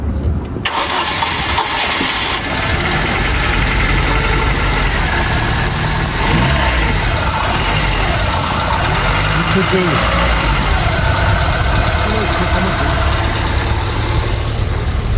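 A used car's engine cranks and catches at a car dealership in Johannesburg, then settles into a steady, loud idle close by, with people talking over it.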